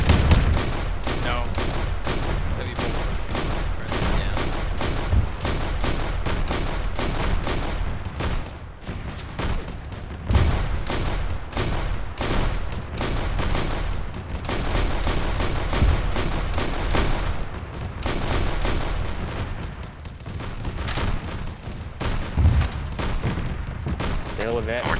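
Plasma weapon fire in the ARMA 3 Warhammer 40k mod, a sustained barrage of rapid, dense shots and booming impacts that continues loudly for the whole stretch, with voices talking over the battle.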